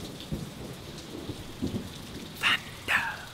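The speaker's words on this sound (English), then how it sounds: "oh, oh, oh, oh, thunder" Rain falls steadily while low rumbles of thunder roll in, followed by a couple of sharper, louder cracks near the end.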